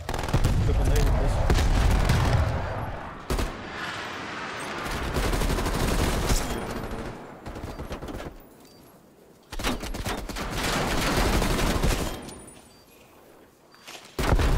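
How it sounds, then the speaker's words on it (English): Sentry gun fire in the video game Black Ops Cold War on a Nuketown map, loud sustained automatic bursts with explosions, broken by short lulls, while a player talks. "our team got a sentry gun now. Now we're shooting."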